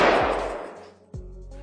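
A large-caliber rifle fires during a bison hunt, one loud sharp report that decays into a long outdoor echo, followed by a second fainter thump or shot.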